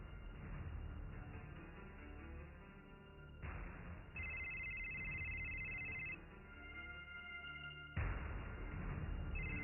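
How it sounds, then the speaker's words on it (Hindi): A mobile phone ringtone plays in a Hindi movie scene, a steady melodic electronic tune with tonal notes that shift in sections, heard alone without talk. "अर्नब जी, क्या ये तुम्हारा मोबाइल है?"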